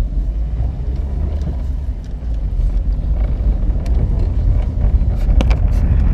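A Volkswagen Saveiro 1.6 pickup drives along with steady engine and road rumble and wind buffeting, the drone easing and swelling as gears are shifted down, with brief knocks near the end.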